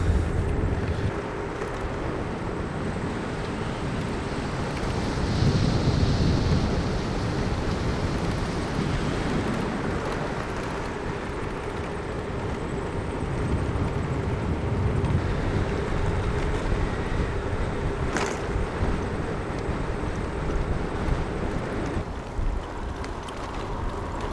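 Strong wind on a long-distance bicycle ride approaching Wellington, New Zealand, rushes steadily past the microphone as a loud, continuous broadband roar for the whole stretch, with no talking.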